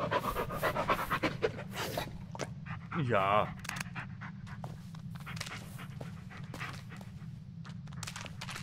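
Bullet, a dog in the Blair Witch horror video game, pants steadily and close throughout, with a brief whine, soft footsteps and a constant low ambient drone; someone speaks once in German.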